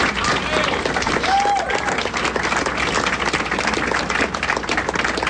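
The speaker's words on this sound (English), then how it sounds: "I don't know why he got more applause than I did" Crowd at a primary election night gathering applauding for a Senate office chief of staff, dense continuous clapping with faint cheers and voices mixed underneath.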